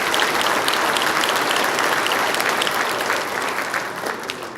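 An audience applauds contestants at a 2019 ambassadors pageant, a loud, dense burst of clapping that stays steady and then eases slightly toward the end.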